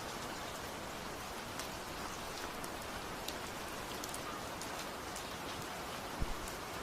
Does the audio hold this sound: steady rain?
yes